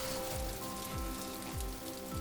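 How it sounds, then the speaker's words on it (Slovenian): Steady rain falls alone as a storybook sound effect, a dense continuous patter with a few soft low drips and tones recurring beneath it. "Začelo je deževati."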